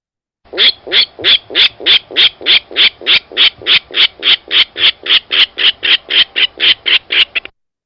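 A loud, close rail call: a rapid, evenly paced series of about twenty harsh squawking notes, then it stops abruptly.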